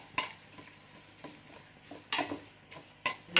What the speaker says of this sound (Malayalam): സവാള ഇട്ട് കൊടുത്ത് അപ്പം നന്നായിട്ട് ഇളക്കി